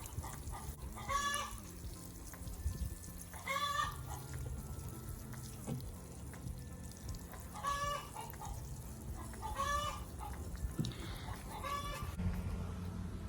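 Chickens cluck in repeated short bursts over a steady outdoor background hum, several separate calls spread across the clip at moderate distance.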